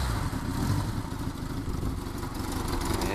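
A 1985 Honda GL1200 Goldwing motorcycle engine, carburetors recently serviced, running at a steady low idle with a continuous rumbling drone, close by and fairly quiet, with no voices.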